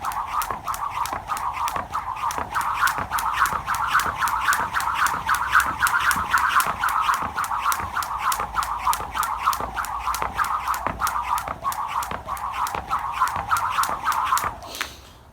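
A jump rope spins steadily and slaps the floor in a fast, even rhythm, roughly two to three hits per second, with a whirring hiss between the slaps for about fourteen seconds.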